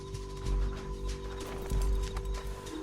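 A horse gallops in the Red Dead Redemption 2 video game, its hooves making rhythmic, heavy thudding beats under a steady musical drone and game ambience.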